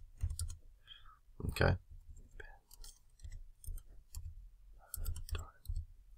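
Light clicking of a computer keyboard as someone types a short phrase, soft scattered keystrokes in a quiet room, with a brief spoken word in between.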